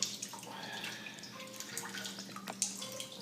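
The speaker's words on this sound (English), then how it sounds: "And then I'm going to start just squeezing out as much water as I can." Water trickles and drips as it is squeezed by hand out of homemade mozzarella cheese, a steady, fairly quiet wet patter with a few sharper splashes near the end and no talking.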